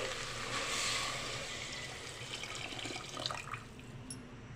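Water pours steadily into a pot of chicken biryani with a rushing, splashing wash that tapers off, close by and without any talking.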